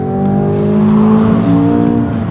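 A £200k supercar accelerates hard out of a corner on a track, its engine a loud, close, continuous rising roar with no talk over it.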